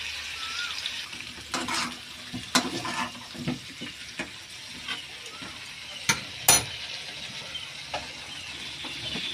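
Chicken frying in oil for a home-style chicken curry while salt is stirred in, giving a steady low hiss broken by scattered scraping clicks and a few sharper knocks, with no voices.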